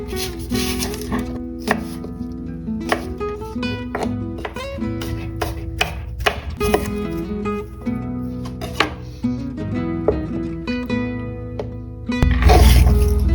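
A knife chops a Honeycrisp apple into small pieces, giving sharp, irregular taps against the board over steady background music.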